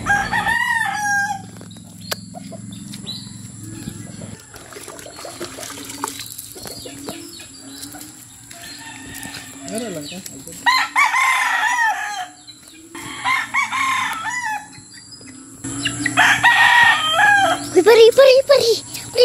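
Chickens cluck and a rooster crows nearby, in several loud bursts over steady background noise, with people talking at times.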